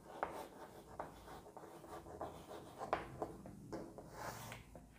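Pen or pencil writing on paper, a soft scratchy stroking that comes in short repeated strokes at close range, quiet and steady with no voices.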